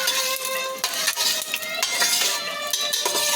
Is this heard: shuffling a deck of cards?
no